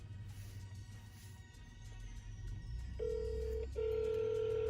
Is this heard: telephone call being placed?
yes